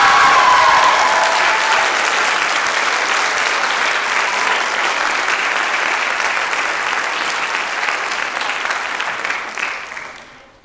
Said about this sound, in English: One more round of applause for my class of 2023